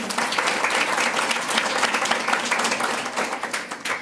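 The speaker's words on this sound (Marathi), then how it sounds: "त्यासाठी सर्वप्रथम आयोजकांसाठी आपण जोरदार टाळ्या वाजवूया" A crowd applauds loudly and steadily at a Shiv Jayanti celebration, many hands clapping at once in a dense burst that carries on throughout.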